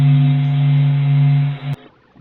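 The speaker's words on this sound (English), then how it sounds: "This is the sound of the sun." Sonified recording of the Sun built from ESA and NASA space data: a loud, steady low electronic hum with bright sustained harmonics, holding evenly for under two seconds before cutting off abruptly into near silence.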